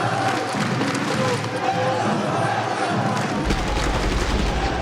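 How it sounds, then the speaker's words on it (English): A large esports crowd cheers and roars at a Rainbow Six Siege playoff match in a packed arena, a dense, steady wall of noise that rises slightly near the end. "the crowd is starting to cheer them on"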